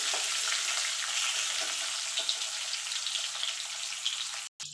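Potato pieces fry in hot oil for a fish curry, an even, close sizzle with faint crackles and light stirring, briefly cutting out near the end.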